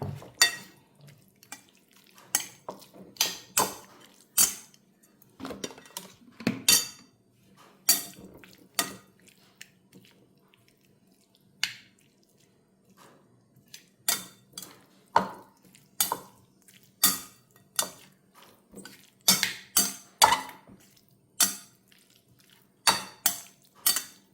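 A spoon mixes tomato, egg and tuna in a bowl, knocking out a long run of sharp, irregular clinks and scrapes that are close and fairly loud against a quiet background.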